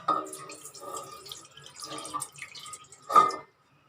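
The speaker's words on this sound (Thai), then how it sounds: "จะเอาน้ำกะทิเนี่ยนะคะ เทลงไปส่วนหนึ่งก่อนนะคะ" Coconut milk poured into a pot for a taro dessert in coconut milk, heard as a close, gurgling liquid pour in a few uneven bursts, ending in a final splash and then silence.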